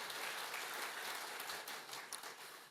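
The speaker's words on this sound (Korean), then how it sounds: "은혜로운 말씀을 전해주신 목사님께 감사의 박수를 드리겠습니다" A church congregation at a men's mission prayer meeting applauds the pastor after his sermon, a dense, even wash of clapping that holds steady and then tapers slightly, heard from within the room.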